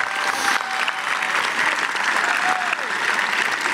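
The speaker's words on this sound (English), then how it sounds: "Big round of applause for robotics." Sustained applause from a large crowd honoring the robotics team at a 2024 high school graduation ceremony, loud and steady throughout, with a faint whistle tone drifting across it.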